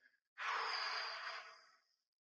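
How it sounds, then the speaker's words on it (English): One slow, breathy exhale, like a long sigh, sounds close and soft for about a second and a half before fading, with quiet around it. "and then as you breathe out"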